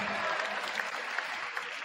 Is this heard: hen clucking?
no